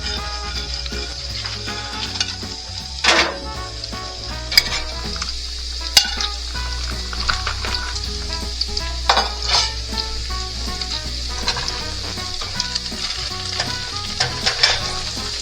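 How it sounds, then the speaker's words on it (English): Bacon fries in pots during a burger cook-off, a loud, steady sizzle and crackle throughout with occasional sharp pops and clinks of cookware, and no voices. "He's got the bacon, the pots are going, and I'm not keeping it maintained."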